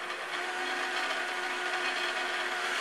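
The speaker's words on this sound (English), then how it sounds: "I'm going to turn the mixer off and scrape the sides down" An electric mixer whirs steadily while it blends pumpkin bread batter in a bowl, a constant close motor hum with no talking.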